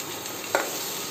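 Mustard seeds, cumin and green chillies sizzle in hot oil on an induction stove for kichidi, a steady close hiss with one brief sharper crackle midway.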